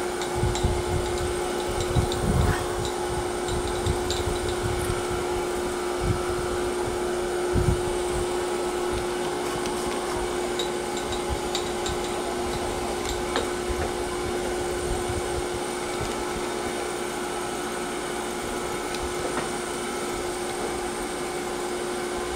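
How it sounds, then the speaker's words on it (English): On a Tormach surface grinder, the spindle runs a steady high whine while the grinding wheel is dressed. A constant close drone is broken by faint scraping ticks throughout. "let's go ahead and dress our wheel"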